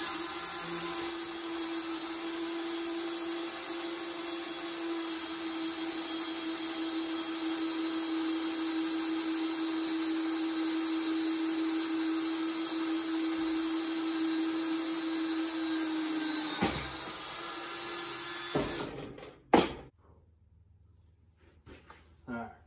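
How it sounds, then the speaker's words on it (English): A power drill with worn bits whirs steadily at high pitch for a long stretch while drilling holes for a UTV flatbed, then winds down and stops, followed by a brief clunk and quiet. "It doesn't always want to drill all the way through."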